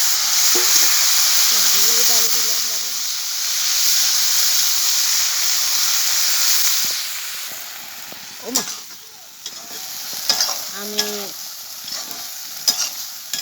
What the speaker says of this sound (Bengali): কড়াতে আমি তেল আর একটু বেজে নিলাম